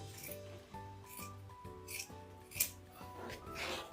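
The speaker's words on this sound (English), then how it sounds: "I'm just going to cut kind of around" Scissors snip around a rose center for a wreath, a run of short crisp cuts repeating about every half second, close and clear over a steady background hum.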